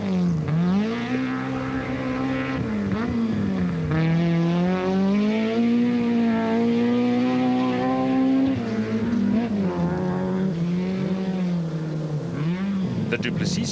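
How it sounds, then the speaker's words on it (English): A Subaru rally car engine strains and revs hard at the 2004 Rally of South Africa, its differential about to break, pitch rising and falling under a steady loud drone, with wheels scrabbling for grip throughout. "You can hear them struggling to get drive just as the differential is about to break"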